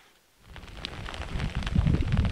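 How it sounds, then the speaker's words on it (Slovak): Rain beginning to fall outdoors on a cold, damp mountain road, a soft patter swelling from near silence into a steady, dense hiss over a couple of seconds. "bohužiaľ začalo pršať"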